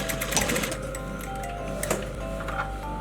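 A sewing machine stitches a patch pocket onto a men's shirt, running with a rapid, steady mechanical ticking and whirring close by, with no pause.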